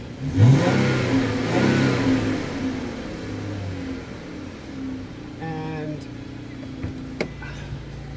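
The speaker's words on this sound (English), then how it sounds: "Listen to that. Isn't that awesome? V6 engine, all-wheel drive." A 2014 Dodge Charger SXT's V6 engine revs hard up close, then settles back to a low, steady idle with a few faint clicks and knocks.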